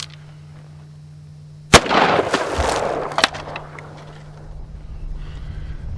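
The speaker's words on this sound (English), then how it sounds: "I'm going to shoot the first one with a 38 special plus P hollow point" .38 Special +P hollow point fired from a snubnose revolver into a water jug, one sharp loud crack followed by a splashing burst, a second smaller crack and fading rumble outdoors.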